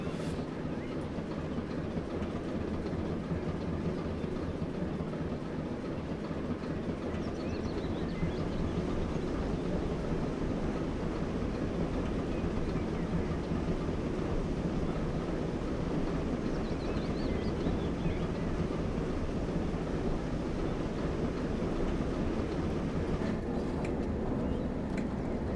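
A steam train in Train Sim World 2 on the West Somerset Railway creeps along at about four miles an hour, giving a steady, dense low rumble and mechanical churn that holds without a break throughout.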